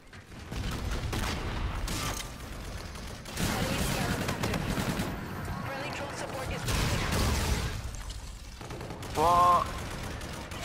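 Shotgun fire in the video game Call of Duty: Infinite Warfare, bursts of booming shots and clattering weapon mechanisms amid game noise, with someone talking throughout.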